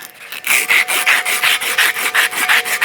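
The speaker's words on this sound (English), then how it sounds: "I want to sand the tops here." Hand sanding on the top tube of a vintage Ritchey bicycle frame held in a repair stand makes rhythmic, close, loud rasping strokes, about a dozen back-and-forth passes in steady succession.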